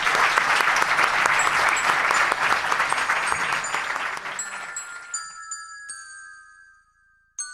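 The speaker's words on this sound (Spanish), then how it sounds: "Un aplauso, por favor, para Carlos Canales" Warm studio audience applause for Carlos Canales on a television program, loud at first and gradually fading out, with bright chime-like tones ringing as the clapping dies away.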